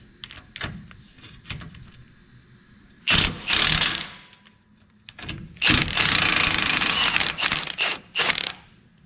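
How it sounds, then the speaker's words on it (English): A Milwaukee power tool works at corroded bolts on a 1986 Toyota pickup, with loud, close bursts of whirring impact action separated by quieter mechanical clicks and handling noise. "So let's get these bolts undone."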